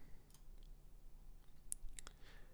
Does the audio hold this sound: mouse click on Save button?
yes